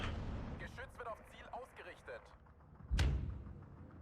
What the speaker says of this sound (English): Just have the mortars do their best along the way for us.